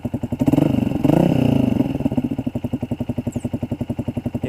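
Yamaha Xabre motorcycle with a Tridente F22 carbon exhaust set to silent mode, idling close by with a steady, even pulsing throb and a brief rev partway through.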